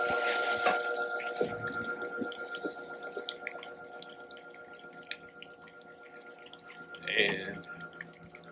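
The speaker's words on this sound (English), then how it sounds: "I'm going to hit my pump" An Intex saltwater pool system pump being switched on, with a click followed by trickling, dripping water and a faint steady hum, quiet and close with scattered small splashes and a brief gush late on.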